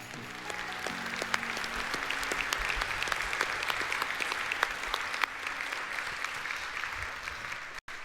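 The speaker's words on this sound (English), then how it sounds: "Let's give Chuck another round of applause" Sustained applause from a banquet crowd after an award, steady and full for several seconds, with no talking over it, ending abruptly.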